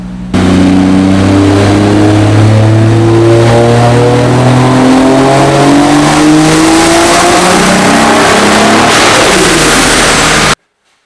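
A 1JZ-swapped BMW E36 screams through a full dyno power run, loud and close, its engine note climbing steadily in pitch over about ten seconds before cutting off abruptly.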